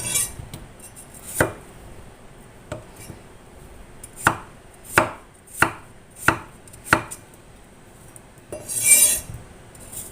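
Knife slicing potatoes on a cutting board for a simple home-cooked vegetable soup: a handful of separate close, sharp chopping strokes, mostly spaced apart with a quick run of five in the middle, no talking.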